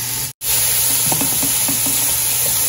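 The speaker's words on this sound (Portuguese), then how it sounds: "Agora eu vou colocar a carne para fritar" Beef and onion fry together in a large pan for yakisoba, giving a loud, continuous sizzle with faint scraping stirs and a brief dropout near the start; no talking.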